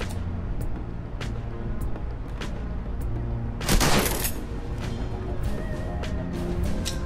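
A mercy shot fired in Shadowrun: Hong Kong, one sharp loud gunshot burst rising out of a steady rumbling game background, with a few fainter clicks and no talk.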